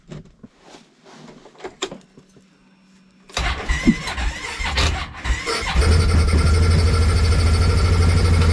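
A Polaris snowmobile engine cranks with a few sputtering catches, then fires up and settles into a loud, steady idle after a snow storm.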